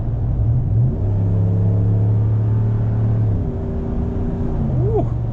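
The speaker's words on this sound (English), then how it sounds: "Wait till y'all hear this exhaust. This exhaust is mean too." A 2023 Dodge Ram 1500 Big Horn 4x4 pickup engine rumbles and revs up through the gears, deep exhaust note rising and dropping with each shift, steady and close.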